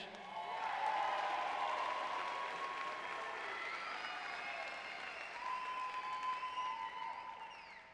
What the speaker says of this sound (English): I think they wanted longer applause